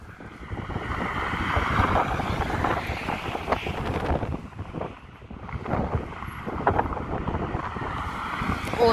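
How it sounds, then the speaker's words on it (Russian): Strong gusty wind buffets the microphone outdoors, producing loud continuous rumbling and roaring that surges and eases in waves, with no voices. "Очень сильный ветер, прям порывы такие."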